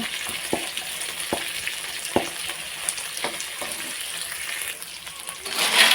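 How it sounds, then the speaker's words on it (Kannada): Curry leaves frying in a pan, a steady close sizzle with several sharp spatula taps against the pan at irregular intervals and a brief louder crackle at the end, no one speaking. "ಕರಿಬೇವು ಸೊಪ್ಪನ್ನು ಇದು ಚೆನ್ನಾಗಿ ಫ್ರೈ ಆಗಲಿ"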